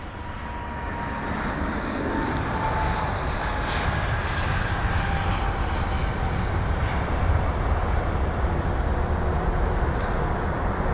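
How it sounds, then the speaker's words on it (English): An Aer Lingus A320neo jet departs London Heathrow, its engines a steady, loud, broadband roar that holds evenly throughout, with no voices over it. "This is flight number EI915 for the Aer Lingus A320 Neo that's just departed"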